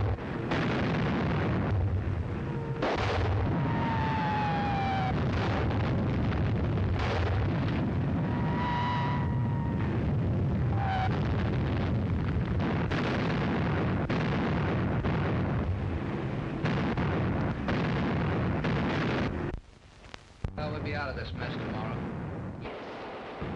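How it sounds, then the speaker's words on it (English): Artillery bombardment in a 1938 film rumbles continuously, loud heavy explosions rolling one into another, while characters talk over the barrage, which briefly drops away near the end. "Another bombardment."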